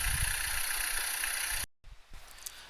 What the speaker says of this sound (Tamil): இதில் வந்து இன்ஜின் நாய்ஸு சென்ட் பண்ணியிருக்காங்க.